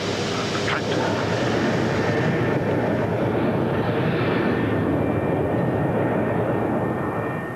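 A BAC One-Eleven airliner climbs after takeoff with a steady, loud broadband jet roar that holds constant throughout.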